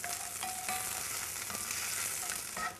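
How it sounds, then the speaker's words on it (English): Hot pepper sizzling and frying in oil in a pan, a steady bright crackle throughout with a few scraping clicks from stirring, close and fairly quiet, no voices. "So give your pepper a good stir in the oil."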